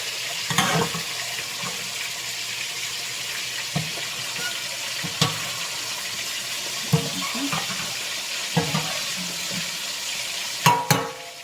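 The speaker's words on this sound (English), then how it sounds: "So I'm gonna add my coconut milk, fresh coconut." Fresh coconut milk is poured into a pot of softened peas, giving a steady liquid sizzle and bubbling with occasional clinks and stirring knocks, close up, with no talk.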